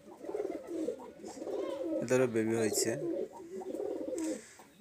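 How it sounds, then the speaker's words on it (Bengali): Traditional Khulna pet-breed pigeons coo softly in low rolling bursts, close by, while a person talks over them. "আমাদের খুলনা ঐতিহ্যবাহী পোষা জাতের কবুতর"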